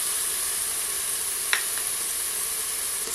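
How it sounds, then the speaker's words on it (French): Zucchini sizzle as they brown in a hot frying pan, a steady close hiss with a soft clink of a utensil partway through. "Faire la place pour faire dorer les courgettes."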